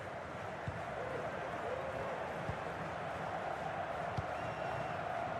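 Stadium crowd in an eFootball match, a broad, constant roar of distant fans with faint scattered thumps, holding steady throughout.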